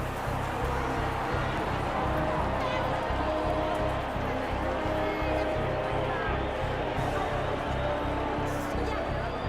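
Crowd ambience in the Hitman video game: a steady, dense murmur of many people with footsteps and bustle, continuous and moderately loud throughout with no clear individual voices standing out.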